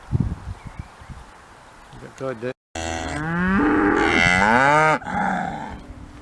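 Cattle moo loudly and repeatedly in a grazing paddock on a regenerative farm in the High Weald, long drawn-out calls rising and falling close by, with wind and rustling between them.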